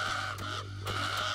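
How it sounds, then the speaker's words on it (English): Carrion crows caw in a video game, two harsh calls a moment apart over a steady electronic hum. "Carrion crows, take me away."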